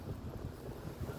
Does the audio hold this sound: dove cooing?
no